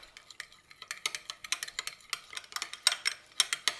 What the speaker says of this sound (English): I'm going to give that a blend.